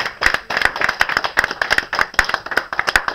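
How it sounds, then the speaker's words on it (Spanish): A church congregation claps hands together during a Spanish-language sermon service, producing close, loud, uneven bursts of claps with no talk over them. "Aplauda fuerte a Jesús esta mañana."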